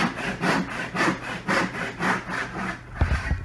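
A hand saw cuts through wood along a kerf line in about six even back-and-forth rasping strokes, close and clear, with no talking.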